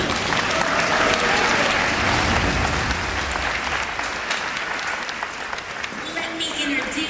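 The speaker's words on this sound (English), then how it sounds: "let's get a big round of applause for our training team" An aquarium audience gives a big round of applause for the animal training team, loud continuous clapping from a large crowd with an announcer's voice carrying over it.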